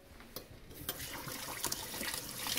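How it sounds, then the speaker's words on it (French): A plate being rinsed under running tap water in a sink at home, a close steady splash and hiss that swells slightly, heard alone with no talk. "Je rince pour elle."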